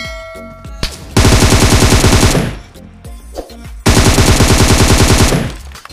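Automatic gunfire in the mobile battle-royale game PUBG Mobile comes as two long, loud bursts of rapid shots, separated by a short pause filled with quieter game sounds.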